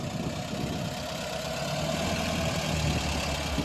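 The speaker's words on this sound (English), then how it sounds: "Here comes a Porsche 914." A Porsche 914 engine idles steadily at close range at an outdoor car show, a low even rumble with no voices.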